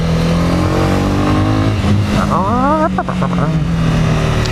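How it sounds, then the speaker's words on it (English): A 2018 Honda CB300R motorcycle's exhaust while riding gives a loud, steady engine drone, with a quick rev climbing in pitch midway and some voice mixed in. "so the exhaust sound on this is really good"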